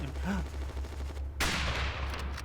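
A single sharp gunshot in the WW2 Online combined-arms battle game cracks out mid-clip and rings into a noisy decay, heard over a steady low engine-like rumble and faint game ambience.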